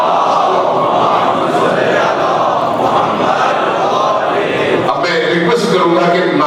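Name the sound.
crowd chanting slogans at a religious gathering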